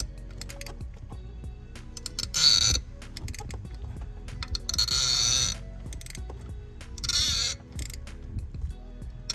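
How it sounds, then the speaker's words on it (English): A ratchet wrench loosens dry factory spark plugs with no anti-seize on a Ford F-150, making continuous fine clicking with three louder, harsher creaking bursts as each plug breaks free, close up with no talk. "that is the sound of plugs straight from the factory with no anti-seize or anything"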